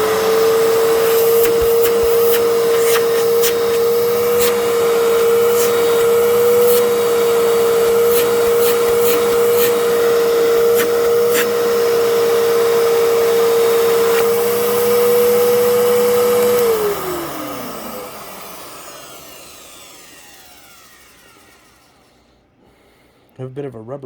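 A Fantom Fury Limited Edition vacuum cleaner runs loud and close with a steady whining motor tone and airy rush, then switches off and winds down to near silence, with a brief knock at the end.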